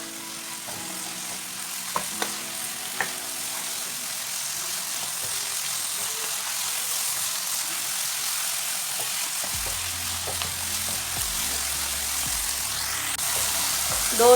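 Methi leaves fry in a pan for a potato and fenugreek dish, producing a soft, continuous sizzle with occasional clicks and light stirring. A low hum enters partway through.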